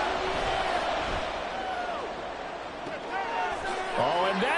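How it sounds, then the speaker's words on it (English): A football stadium crowd roars loudly and continuously on a 3rd-and-inches play, a dense wall of noise swelling near the end, with a commentator's voice over it. "this crowd trying to force a false start here"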